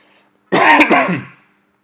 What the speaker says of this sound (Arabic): انا اسف ان انا بكح في في المايك